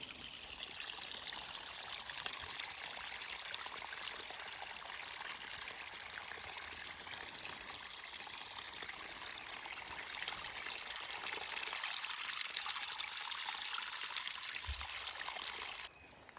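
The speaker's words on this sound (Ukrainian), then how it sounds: "Ось так з гір стікає водичка." Mountain water trickles downhill in a continuous close rush and babble that holds steady throughout and stops abruptly at the end.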